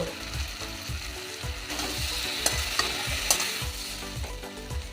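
Sugar and whole poppy seeds sizzling in a frying pan while being stirred, with rhythmic scraping strokes of a spatula repeating about twice a second over a steady crackle.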